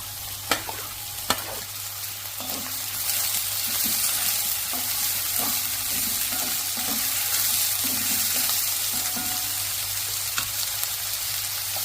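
Green chili, ginger, garlic and onion frying in a pan for a squid roast, giving a continuous close sizzle with intermittent scraping strokes of a spatula, no voices.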